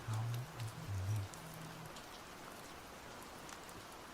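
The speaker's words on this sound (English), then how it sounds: "And now, some soothing rain sounds for those that are still awake." Soothing rainfall plays as steady ambient background, a soft continuous hiss of drops with a low rumble fading early on, calm and unbroken, with no talking.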